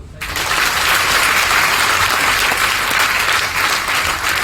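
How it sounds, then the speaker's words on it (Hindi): An audience at a motivational talk breaks into loud, dense clapping on cue, starting abruptly and holding steady for several seconds. "एक बार ताली बजा लो"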